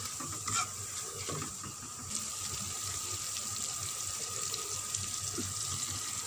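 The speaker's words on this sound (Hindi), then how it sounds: "इनको भी हम अच्छी तरह फ्राई करेंगे।" Chopped tomatoes frying in a pan for chana curry with a steady, close sizzle and occasional stirring scrapes, no talk over it.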